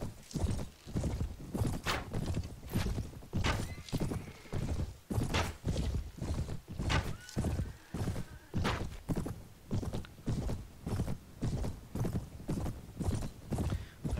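Horse hooves in the video game Mount & Blade, a steady rhythmic clip-clop of a galloping horse with faint whinnying tones mixed in.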